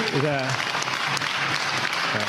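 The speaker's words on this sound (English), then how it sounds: "kudos to the people that applauded" An audience claps together in a short burst of steady applause, with a voice briefly audible at the start over the clapping.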